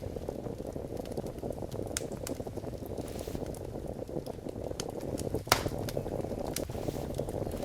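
A campfire burning while food cooks in the survival game Survive the Nights, giving a steady crackling, bubbling hiss with sharp pops scattered throughout, constant and moderately loud.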